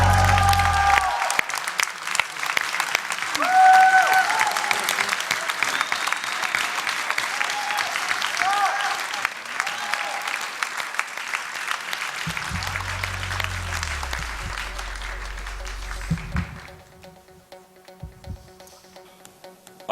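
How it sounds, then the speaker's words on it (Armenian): Studio audience at an X Factor show clapping loudly and continuously for a contestant, the applause fading out near the end while low musical tones come in. "եւս մեկ անգամ ընդունիր այս ծափահարությունները"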